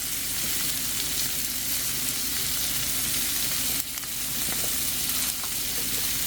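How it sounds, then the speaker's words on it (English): Butter, onions and mushrooms sizzle in a pan, giving a dense, continuous frying hiss that stays even and close throughout, with a short dip partway and no voices. "Let's throw in some butter. Our onions. Some of these mushrooms."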